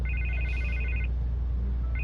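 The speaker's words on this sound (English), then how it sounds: "I can't get the phone to stop ringing." Telephone ringing in Batman: The Telltale Series, an electronic trill that rings for about a second, pauses, then starts again over a low background hum.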